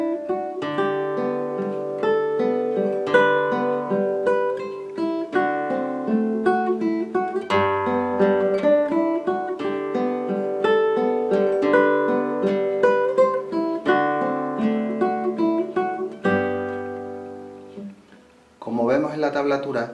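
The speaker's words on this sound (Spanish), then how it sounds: "La parte práctica del arpegio arriba lo vamos a hacer con la primera parte de la cajita de música, que suena así." An acoustic guitar plays an arpeggio on the first part of a music box tune, plucking clear notes one after another in a steady, melodic sequence, close and alone, pausing briefly before a final strum.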